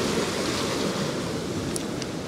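Sea waves washing in and out around a rock along the shore, with a steady, loud roar of surf and no voices.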